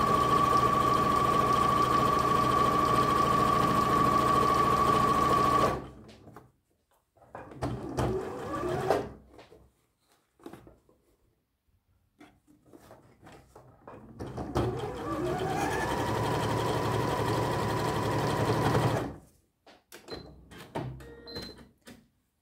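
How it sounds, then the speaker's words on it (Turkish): A sewing machine stitches elastic onto pajamas in two long, steady close runs separated by quiet pauses filled with soft fabric-handling rustles. "Düz yüzünden dikmeye başlıyorum."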